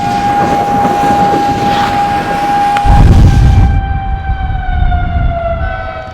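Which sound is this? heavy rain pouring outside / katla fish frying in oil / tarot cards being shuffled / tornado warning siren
tornado warning siren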